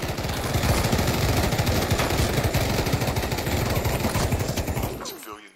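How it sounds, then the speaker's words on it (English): Automatic gunfire in the VR game Pavlov, a loud, rapid, unbroken stream of shots lasting about five seconds before stopping abruptly. "That guy started shooting at me."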